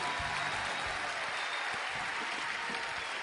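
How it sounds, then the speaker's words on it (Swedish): Sustained applause from a large audience for singer Linnea at a televised Idol Sverige singing contest, steady dense clapping filling the whole stretch with a faint crowd murmur beneath. "håller kvar applåden för Linnea"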